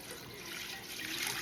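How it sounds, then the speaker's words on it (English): Turkey broth is poured into a pot for cream of turkey wild rice soup, making a steady, continuous liquid rush and splash with no talking. "pour the rest of that beautiful broth in"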